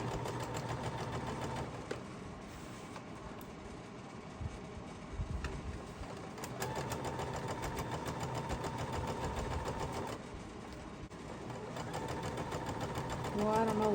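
A home sewing machine stitches quilt fabric, humming and clattering steadily at close range with brief pauses and speed changes throughout.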